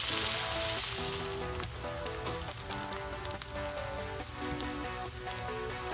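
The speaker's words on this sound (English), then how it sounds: "Add onion to the oil." Onion frying in oil left from cooked chorizo in a pan for Portuguese bean soup: a steady, moderately quiet crackling sizzle with small pops throughout, with a faint musical backing and no talk.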